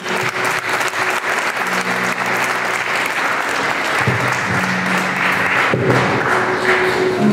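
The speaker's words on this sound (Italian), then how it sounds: "applauso." Sustained applause from an evening audience at a Tropea festive village event, dense steady clapping with a few soft thumps, filling the whole stretch at close range.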